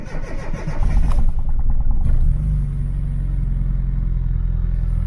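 A Mini Cooper MPI that has sat unused in hibernation cranks briefly and fires, then settles into a loud, close, steady idle rumble that continues to the end.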